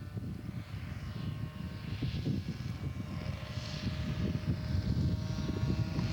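A scale model Citabria airplane's engine drones faintly at a distance as the aircraft comes in on approach at an outdoor scale aircraft show, a steady buzzing hum under wind.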